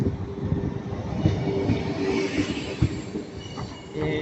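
A tagged 2NG Nord-Pas-de-Calais regional train at Lille Flandres station, a steady rumble of rolling wheels with faint squeals and occasional clunks, moderately loud and continuous, with no talk.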